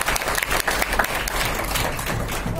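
An audience at a business team event breaks into loud, sustained applause for a team member, with dense clapping throughout and no speech over it.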